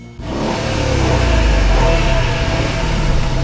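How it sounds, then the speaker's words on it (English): A car engine roars up loudly and holds a deep, steady rumble, close by, with no talking. "Let's listen to that roar of the engine."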